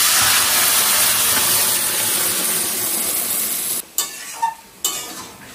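Boiled vegetables go into hot oil in a kadai with bay leaf, dried chilli and browned panch phoron for shukto, a loud close hissing sizzle that drops away near the end into short bursts.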